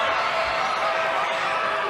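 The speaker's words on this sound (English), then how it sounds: "That scrap got the crowd at the Chrysler Arena, into this." Crowd at Chrysler Arena cheering during a college wrestling dual meet between Penn State and Michigan, a sustained dense roar of many voices filling the whole moment.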